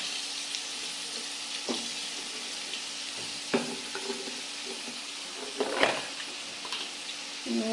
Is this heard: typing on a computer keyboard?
no